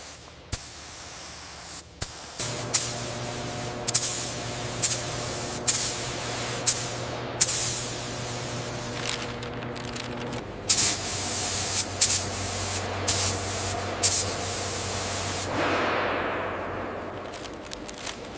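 Bursts of hissing spray repeat in short pulses over a steady low mechanical hum, with a longer sustained spray near the end.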